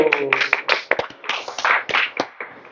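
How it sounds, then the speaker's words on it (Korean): Irregular hand claps from a small group, mixed with voices, at an Easter Sunday church service. "아멘. 박수."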